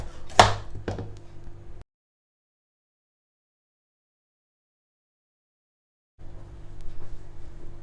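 A knife chops bitter gourd into small pieces, with a few sharp taps on a board at the start, then a long silence before soft, quiet cutting noises resume near the end.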